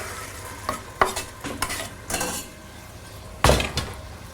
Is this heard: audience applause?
no